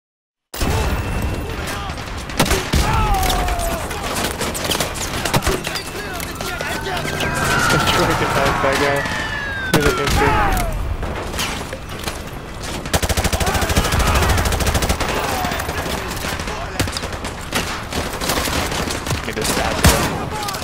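Heavy bursts of automatic gunfire from police shooting in Modern Warfare 2 Remastered, loud and sustained with rapid volleys, booms and mechanical clatter, with a voice talking over it.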